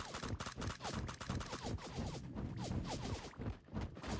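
Rapid bursts of gunfire from multiple directions during a competitive team scrim match in a battle royale shooter game, dense and continuous, overlapping shots with sharp impacts, fairly faint overall.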